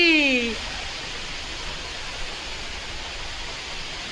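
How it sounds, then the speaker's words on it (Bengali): Steady rain falls in a broad, even hiss during the Ambubachi monsoon season, constant throughout with no breaks, and a short voice is heard right at the start. "এখানেও বৃষ্টি"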